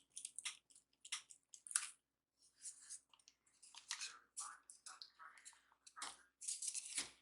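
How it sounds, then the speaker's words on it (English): Two-part resin and hardener being stirred in a cup, with faint scraping, sticky squishing strokes in an irregular rhythm, close and quiet. "Now I stir."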